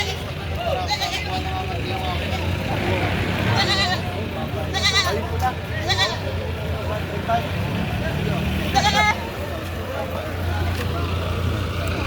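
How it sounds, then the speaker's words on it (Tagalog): Goats bleat in short repeated cries at a Philippine livestock auction market, several calls rising over a busy background hum with occasional vehicle noise, the animals fairly close and moderately loud. "Ayan, mga malalaking kambing."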